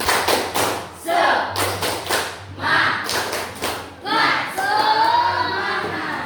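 A class of children performs the rhythmic 'tepuk semangat' clap in a classroom, with repeated bursts of patterned clapping and thumps separated by short pauses, and voices chanting along.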